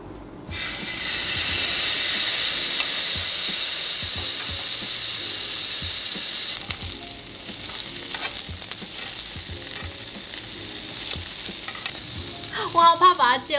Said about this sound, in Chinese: 所以我先来煎牛排